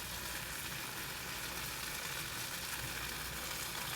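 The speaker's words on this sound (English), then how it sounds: "I'm hearing some sizzle. Yep, it's sizzling." Steady, dense sizzling crackles from Sri Lankan sauce ingredients frying with salt and lemongrass in a hot pan, a constant hiss with no pauses.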